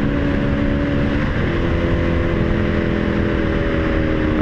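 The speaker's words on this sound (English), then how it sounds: "Feels like I'm not getting enough gas." A motorcycle engine with a failing Chinese-made fuel pump drones loudly and steadily while the bike rides, a rough low rumble under constant wind noise.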